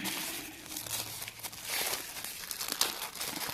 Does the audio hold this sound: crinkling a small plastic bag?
yes